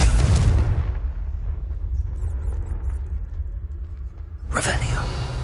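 Confringo spell blast in Hogwarts Legacy, a loud opening burst that dies into a low rumble, followed by another bright, noisy blast at the end; a voice is heard.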